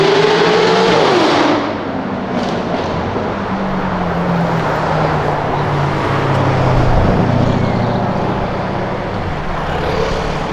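A Corvette accelerates hard nearby, its loud engine roar rising and then falling as it pulls away, followed by a sustained rumble of engine and road noise with no voices.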